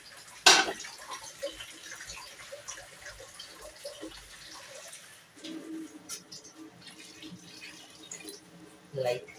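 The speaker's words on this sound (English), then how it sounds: "Let me add water there." Water is poured into a cooking pot of potatoes, giving a short splash followed by a steady, low pouring sound under light background noise.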